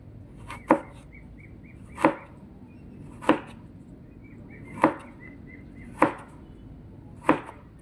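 A knife cuts fresh ginger into thin slices on a cutting board, giving six sharp, evenly spaced chops about a second apart in a quiet kitchen.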